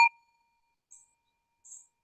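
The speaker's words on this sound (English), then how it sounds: "The bell from the radio show." A small desk bell from a sports radio show gives one bright ding at the start, with its ring fading, then two faint high clinks follow in an otherwise silent background.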